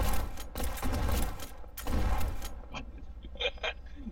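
Gunfire in the Flashing Lights police video game comes as dense, loud bursts of rapid shots in two clusters, followed by a few scattered sharper shots and metallic clicks.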